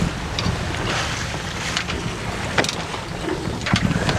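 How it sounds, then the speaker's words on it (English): A sailboat under sail heading toward Key West, with the motor idling at about 650 RPM for a knot of extra speed, gives a steady rushing mix of water and wind noise across the microphone, with occasional splashes and no voices. "So we do have the motor running a little bit just to give us like a knot of speed."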